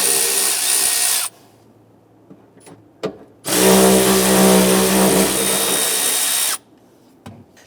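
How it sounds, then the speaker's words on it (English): A power driver fitted with an 8mm socket whirs in two bursts while removing the fuel tank filler neck bolts on a 1994-2004 Ford Mustang, with short clicks and pauses between the runs. "We're using our 8mm socket to remove these."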